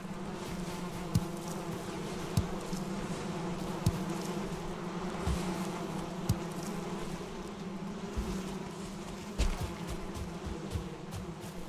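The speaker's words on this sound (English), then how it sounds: "Oh, the bees are awake." Bees drone in a steady, unbroken buzz in the Valheim video game, a dense swarm hum close by with faint clicks scattered through it and no voices.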